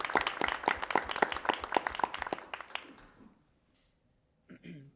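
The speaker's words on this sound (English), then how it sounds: "I'd like to give you a round of applause" Village council meeting audience gives a round of applause, brisk clapping for about three seconds that tapers off into near silence, followed by a faint stir.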